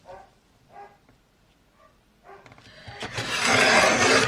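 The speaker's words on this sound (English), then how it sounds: "Apologies for the dogs." Dogs barking indoors, a few separate muffled barks at first, then a louder burst of overlapping yips and barking at the end.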